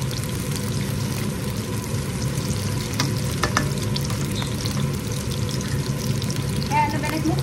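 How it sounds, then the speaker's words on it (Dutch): Trassi shrimp paste frying with onion in a pan on a stove with the extractor fan running makes a steady sizzle with occasional stirring scrapes and small pops over a constant low hum. "Bakken we mee met de ui."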